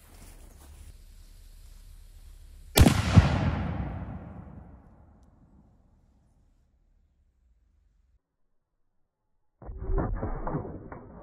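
A cannon fires a tank round at ABS armor plates outdoors: one sudden loud blast that rolls away into a long fading echo, then near silence before a short burst of noise near the end.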